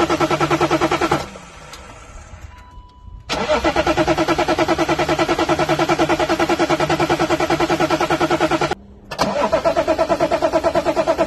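A BMW E36 325TDS diesel engine cranks loudly with a steady, rapid pulsing churn, drops off for a moment, then cranks again at length with a short break, without catching.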